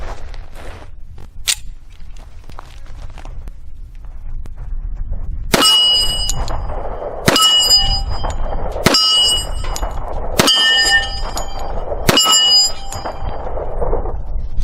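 Bullets from a Thompson Auto-Ordnance 1911 .45 pistol hit a steel target, giving five sharp, bright metallic rings at even intervals, each preceded by a gunshot. A few fainter taps come first, and the pings ring out loud and close.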